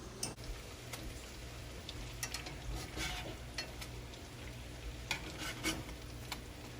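Beef pinwheels sizzle quietly in a pan while they are turned, and light clicks and taps from the utensil punctuate a steady low frying hiss. No one speaks.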